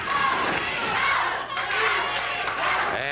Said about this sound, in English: And you can hear the crowd picking up the chant